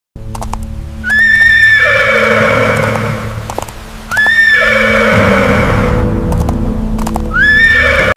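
A horse neighs loudly and nearby three times in a row, each whinny rising and then trailing off, with hooves clip-clopping underneath as it carries a monkey rider into a forest.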